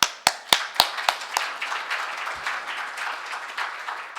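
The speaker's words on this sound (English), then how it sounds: "Can we have an applause?" A few loud, sharp claps ring out at the start, then scattered audience applause at a forestry event rolls on steadily as a broad, moderate wash with no talk over it.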